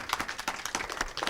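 A crowd at a faith-based advisory council meeting breaks into applause, many hands clapping in a dense, steady patter at moderate distance.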